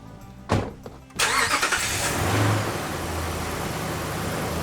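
A car engine cranks briefly, stutters, then catches and settles into a steady idle, loud and close, starting on a new Optima QH6 orange-top lithium battery.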